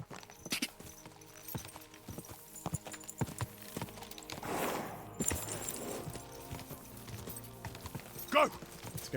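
A horse in the video game Kingdom Come: Deliverance II moves with a brisk clip-clop of hooves, varying in pace, under intermittent game sounds and a voice talking.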